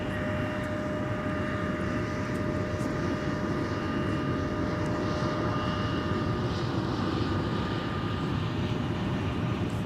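An Endeavor Air airliner taxis at Minneapolis–St. Paul Airport, its jet engines giving a steady, loud, unbroken roar with a constant whine running beneath it throughout.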